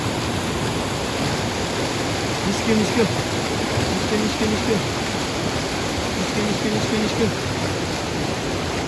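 Steady broadband rush of the Rawa river flowing past a fishing spot near hydropower works, continuous and fairly loud, with a voice speaking briefly over it.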